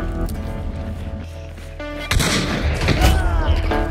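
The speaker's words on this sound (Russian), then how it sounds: "Мосин наган снайпер." Mosin-Nagant sniper rifle in Hunt: Showdown, a single loud, close crack with a booming tail that rolls out over a droning background, set against busy game ambience.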